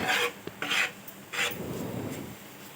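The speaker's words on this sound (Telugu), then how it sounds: "ఇప్పుడు వచ్చేసి ఒక స్పూన్తో ఇలా బాగా కలిపేసుకోవాలి" A spoon scrapes and rasps through a thick coconut and jaggery filling in a pan over medium flame, in a few close strokes followed by a steadier rubbing stir, with no talking.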